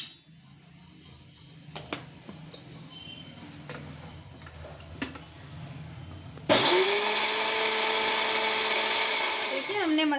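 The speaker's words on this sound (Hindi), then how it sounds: "अब हम इन्हें ग्राइंडर में पीस लेंगे। मसालों को आपको दरदरा ही पीसना है।" An electric grinder coarsely grinds roasted spices for stuffed red chili pickle. The motor starts abruptly after a few quiet seconds of small clicks and handling noise, then a loud, steady whir fills the rest, up close.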